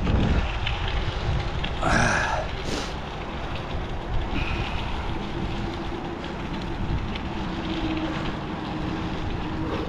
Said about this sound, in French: j'ai quand même le vent dans la tronche depuis que j'ai démarré cette voie verte